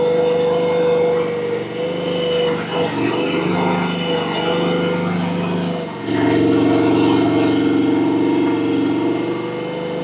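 MechMaxx mini excavator engine running steadily at about half throttle, a continuous loud mechanical drone with a slight dip and change in load partway through as it works.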